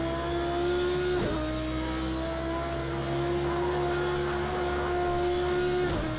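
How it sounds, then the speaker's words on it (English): A growling, wailing V10 race car engine in Project CARS 2 at the Nürburgring, a steady high-revving drone that dips briefly at gear changes, loud and close, with no talk. "A nice growly, waily V10."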